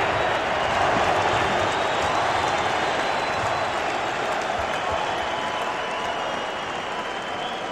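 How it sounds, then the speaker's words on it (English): Dense boxing-arena crowd roar at a Tyson–Holyfield heavyweight fight, a steady wash of many voices and chanting for Holyfield, loud and continuous throughout without a break. "the crowd chants Holyfield"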